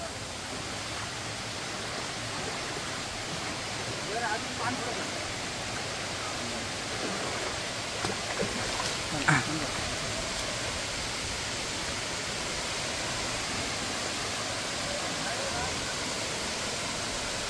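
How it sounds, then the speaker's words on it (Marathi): A waterfall with a low flow, heard from below as a steady, broad rushing roar that holds evenly throughout, with a few faint knocks and thuds along the way. "पाहूया धबधबा कसा आहे, खालून कसा दिसतो धबधबा ते पाहूया."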